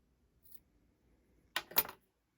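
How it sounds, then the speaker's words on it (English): Scissors snip off yarn ends close to a yarn cake, a quick double cut up close after a near-silent pause. "Cut these off as close as you can."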